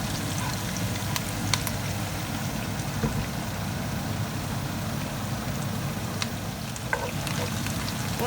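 Onions sizzle in a pan for Ghanaian garden egg (eggplant) stew, a steady close crackling hiss with scattered sharp pops throughout, with no voices over it.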